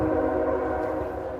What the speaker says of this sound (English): Sorry about the train going by.